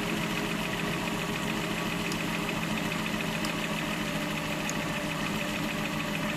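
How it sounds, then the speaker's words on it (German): A 1995 VW T4 with the ACU engine, which stumbles and stalls when warm, idles in a steady, continuous mechanical rumble with a light knocking texture at moderate distance. No voices are heard. "Und naja, jetzt starten wir das mal."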